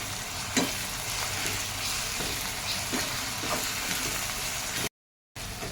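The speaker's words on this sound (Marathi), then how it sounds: "आपण आता मिरची आणि लसणाचा ठेचा टाकून दिला आहोत. छान भाजूयात." Green chilli and garlic paste frying with browned onions in a pan, a dense continuous sizzle with occasional stirring clicks, cut by a brief gap of silence near the end; no speech.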